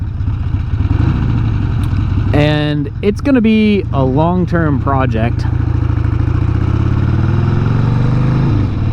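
A Harley-Davidson Ironhead motorcycle engine runs steadily throughout, a loud low rumble that continues under a man's speech in the middle.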